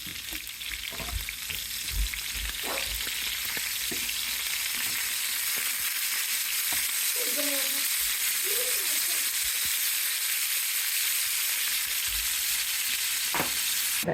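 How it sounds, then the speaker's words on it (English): Seasoned meat pan-frying until crispy, a steady close sizzle with scattered pops and a few utensil scrapes running throughout, no talking. "And then I'm gonna put them in a pan and get them crispy."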